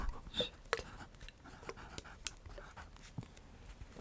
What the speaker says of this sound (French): Elle est vraiment en train d'écrire un mot.